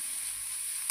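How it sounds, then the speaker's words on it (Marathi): Chopped onion sautés in a pan, giving a soft, even hiss of frying for a brief moment with a slight bump at the end, no talking. "आपण 5 मिनिट कांदा परतून घेऊया।"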